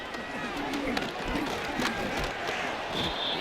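Stadium crowd roaring steadily at a Broncos vs Bills NFL game as the home team takes the field, a dense continuous wash of cheering with a commentator speaking over it.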